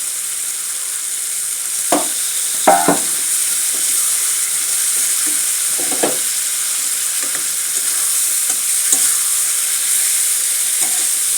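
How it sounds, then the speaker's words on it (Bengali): Chicken pieces sauté in a hot pan for a Bengali dish with mustard greens, sizzling loudly and steadily throughout, with a few clattering stirs of a utensil scraping the pan. "তা চিকেনটা কষা হচ্ছে"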